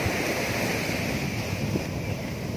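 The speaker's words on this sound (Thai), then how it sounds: "ตรงที่คลื่นมันกระทบฝั่ง" Big ocean waves crash against the shore on Samui in a continuous, close roar of surf, heavily buffeted by wind noise on the microphone.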